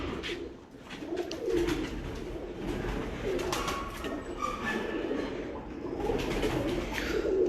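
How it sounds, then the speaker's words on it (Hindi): Breeder pigeons coo at a loft in Kasur, a steady murmur of soft calls continuing alongside bird chatter and a low background rumble. "हम आपको शौक करवा रहे हैं उस्ताद मियां अब्दुल रऊफ साहब के मेन ब्रीडर कबूतरों का"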